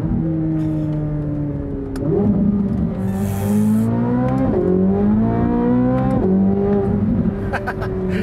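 A 2023 Corvette Z06 engine accelerates hard under throttle, its pitch climbing steeply and then dropping at each of three quick upshifts before rising again, loud and close throughout.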